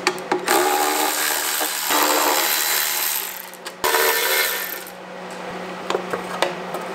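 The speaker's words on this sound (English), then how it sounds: "we're gonna remove the three bolts for the heat shield. Those are 12 mil bolts. We'll back those off" Mechanical clicking and metallic rattling from a ratchet backing off rusty 12 mm heat-shield bolts on car headers, close and continuous with brief pauses, no talking.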